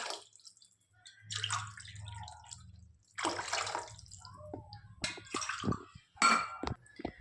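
Water for mint pulao splashes and trickles into a pot in a few separate pours, with drips and light clinks between quiet pauses.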